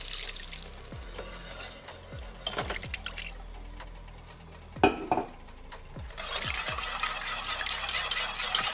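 Liquid poured and stirred into homemade gravy in a pan for chicken and cornbread dressing, with a steady close sizzle, soft scraping stirs and splashy pouring that grows brighter and louder toward the end.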